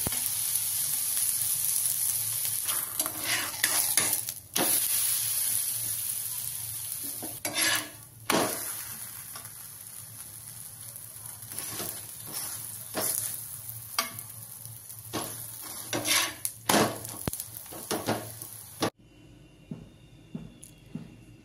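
Dahi dhapate flatbreads frying in oil in a kadhai give a steady, close sizzle, broken by scraping clatters of a spatula against the pan, and the sizzle stops abruptly near the end.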